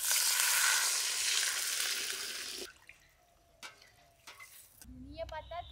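Cumin paste spice mix frying in a pan, a loud sizzle for a couple of seconds that cuts off abruptly, followed by quiet clinks, a few drips and then faint speech.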